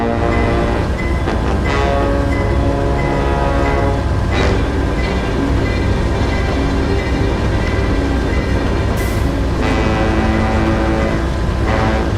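A train rumbles loud and close, its horn sounding in sustained blasts over steady rolling clatter of wagons.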